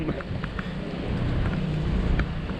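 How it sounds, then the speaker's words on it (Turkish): Light rain beginning to fall outdoors, a steady soft hiss with some wind buffeting the microphone and faint scattered ticks, continuous throughout with no one speaking. "evet yağmur başlıyor ufaktan"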